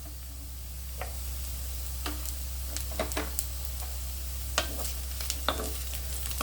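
Steady low sizzle of onions frying in a pan for spicy radish pachadi, with occasional stirring scrapes and clicks from a utensil; no voices.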